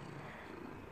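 A soft, steady cat purr, low and continuous, close to the microphone, with no voices over it.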